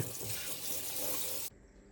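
Boiled pork skins rinsed under a running kitchen tap: a steady, loud, close rush of water splashing into a sink that cuts off abruptly near the end, leaving a quiet room.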